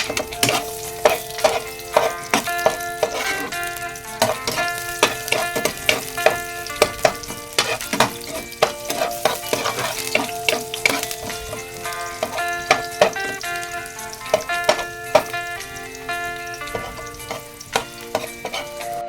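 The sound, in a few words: garlic frying in hot oil in a large wok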